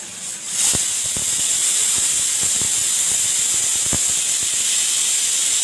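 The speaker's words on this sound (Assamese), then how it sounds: "তাৰপিছত সেই একেখন কেৰাহীতে মই ঢালি দিছোঁ গৰম পানী" Hot water poured into a hot wok just used for frying fish pieces, setting off a sudden loud, sustained steam hiss with scattered crackles close by; no one speaks.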